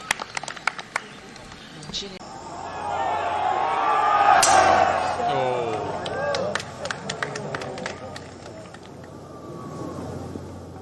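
Crowd noise at the BMW Ladies Championship LPGA golf tournament: a swelling murmur and roar that builds and fades over several seconds, with scattered sharp clicks and a commentator talking.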